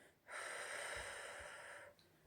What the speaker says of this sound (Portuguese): Expira pela boca.